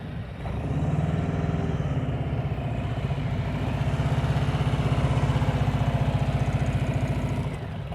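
A motorcycle engine chugs steadily at low revs while being ridden slowly through a cone course, a close, throbbing idle-like rumble with slight throttle swells and no speech.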